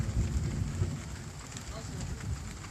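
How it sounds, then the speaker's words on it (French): Steady patter of light rain from a small thunderstorm passing over a factory, a continuous close wash of drops with a low rumbling undertone and no clear thunderclap. "Petit orage, donc qui est en train de traverser l'usine."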